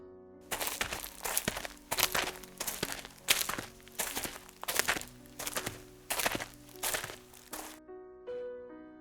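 Military combat boot footsteps marching on a hard surface, about a dozen heavy, slightly uneven thuds in a steady rhythm, close and distinct, with a low drone beneath, fading to a faint tone at the end.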